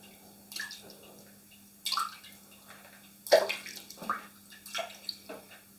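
Wet clay being stretched by hand to form a pottery jug handle, with soft watery squelches and drips in irregular bursts, close and fairly quiet over a faint steady hum.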